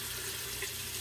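Cold water runs steadily from a bathroom tap during a wet shave rinse, a continuous faint hiss and splash for about a second with no voices.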